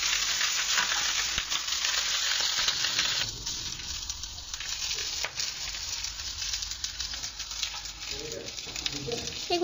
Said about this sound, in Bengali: আমি আবারও একটু সরিষার তেল দিয়ে তার ভিতরে কিছু শুকনো মরিচ, কাঁচামরিচ আর রসুনের যে কোয়াগুলো ছিল সেটাকে দিয়ে আবারও একটু রোস্ট করে নেব